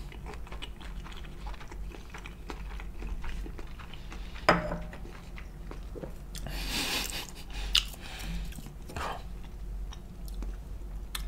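Close, soft chewing of vegan sushi topped with imitation crab, avocado, cucumber, sauce and onions, with wet mouth sounds and small bites heard quietly over a low background hum.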